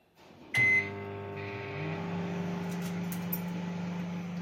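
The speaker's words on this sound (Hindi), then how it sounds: "अब हम माइक्रोवेव में रखते हैं और" An IFB microwave oven is set with a short electronic beep, then starts running with a steady low hum and whirring drone that continues evenly to the end, fairly close and alone.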